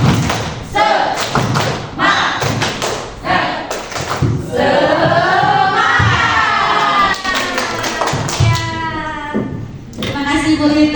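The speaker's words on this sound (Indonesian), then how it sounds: "Tepuk semangat" A roomful of teachers and staff in Indonesia clap a rhythmic spirit cheer in unison, loud sharp thumps in quick patterned bursts mixed with voices chanting and shouting along throughout.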